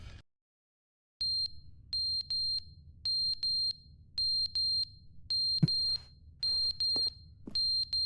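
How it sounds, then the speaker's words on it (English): A fire alarm in the video game The Stanley Parable beeps in regular high-pitched bursts, paired tones repeating over a low hum, loud and alone apart from a few clicks. "Yeah, I gotta skip this fire alarm."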